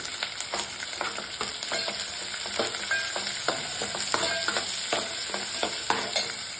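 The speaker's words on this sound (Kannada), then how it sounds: "ನೋಡಿ, ಕರಿಬೇವು ಹಾಕ್ಕೊಳ್ತಾ ಇದ್ದೀನಿ." Curry leaves frying in hot oil with turmeric for avalakki, a continuous close sizzle broken by crackles and the scrape of stirring.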